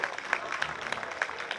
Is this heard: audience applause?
yes